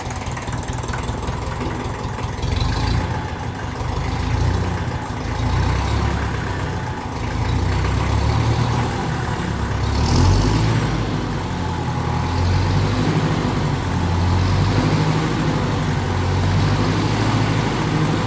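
A 1954 Ferguson TEF 20 diesel tractor idles unevenly with a low, throbbing rumble, its speed drifting up and down from air in the fuel, over a long, steady stretch.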